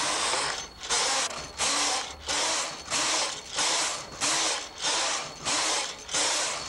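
A knitting machine carriage is pushed back and forth across the yarn in eight or nine regular rasping sweeps, each pass a loud, close ratcheting slide followed by a brief gap.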